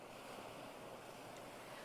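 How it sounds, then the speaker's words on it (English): Ocean waves wash in a steady, even broadband roar with some wind, and no one is talking. "I think the waves are getting a little too loud"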